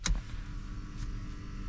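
A power seat in a BMW iX 50 electric car whirs as it motors into position, a low steady electric hum with a brief click at the start, quiet and close inside the cabin.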